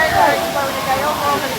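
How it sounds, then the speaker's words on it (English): Theme park waterfalls rush in a broad, steady roar just after being turned on, loud and close with crowd noise mixed in. "it's the waterfalls just been turned on"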